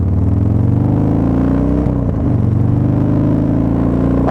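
A motorcycle engine rumbles loud and close, holding a steady deep drone with a brief dip in pitch midway before returning to the same level.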